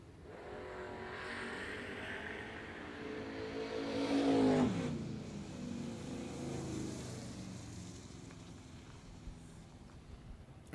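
A Mazda Miata drag car making its run at an IHRA World Finals event, heard from a distance as a rising engine drone that swells to a peak, drops sharply at a gear change, then fades away.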